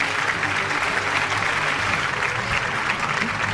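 Steady, full applause rolls from the crowd at an annual award show in Lahore, a thick and even wall of clapping that stays loud throughout.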